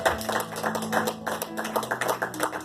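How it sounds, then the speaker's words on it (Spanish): Church congregation clapping in a quick, uneven rhythm of sharp claps, fairly quiet, with a low sustained tone underneath and no speech. "Démosle un aplauso al Señor."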